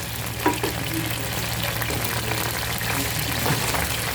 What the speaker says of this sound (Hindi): ये फ्राई हो रही, इसको भी पलटना होगा बड़ी एहतियात के साथ